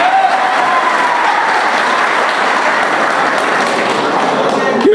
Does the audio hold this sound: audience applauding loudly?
yes